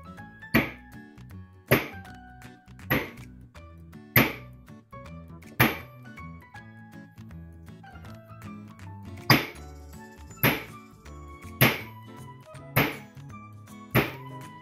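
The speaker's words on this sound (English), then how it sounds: "So I'm going to crack it right here. That's where I'm going to hit it." A rock is struck repeatedly to crack it open, about a dozen sharp, close knocks at uneven intervals, each with a brief ringing decay, over a quiet background.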